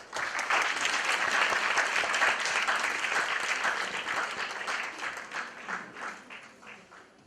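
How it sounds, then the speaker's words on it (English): An audience at an academic lecture on time applauds as speakers take their seats on the dais, a dense sustained round of clapping that slowly thins into separate claps toward the end. "Kindly give her applause."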